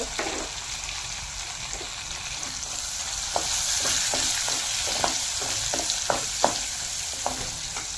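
Asafoetida crackles and sizzles in hot oil for a vegetable biryani, a constant frying hiss with sharp, scattered pops through the middle and end, close and moderately quiet.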